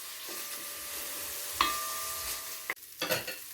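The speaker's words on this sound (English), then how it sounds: "And just mix that, say, for about 2 minutes" A coconut curry lamb mixture being stirred in a pot, with a soft sizzle broken by a few utensil clinks and a sharp scrape near the end, close and quiet, with no talking.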